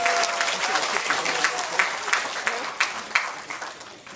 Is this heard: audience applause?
yes